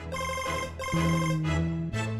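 A mobile phone ringtone plays loudly and alone, a repeating electronic melody in short bursts, during a tense, panicked scene.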